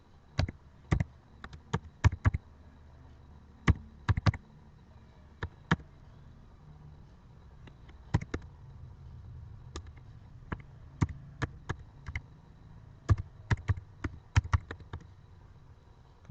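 Fingers type a phone number on a computer keyboard, producing quick bursts of sharp, close key clicks separated by short pauses over a low steady room hum.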